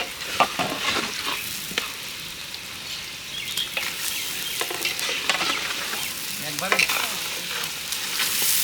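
Hilsa fish frying in hot oil with onion and spice paste, a steady loud sizzle with scraping stirs and occasional pops throughout, no talking.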